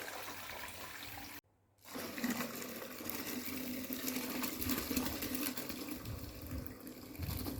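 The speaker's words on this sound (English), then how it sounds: "So I am in the process of straining my sorrel." Jamaican sorrel drink is being strained, a steady close rush of pouring, splashing liquid that runs almost unbroken for several seconds after a brief silence near the start.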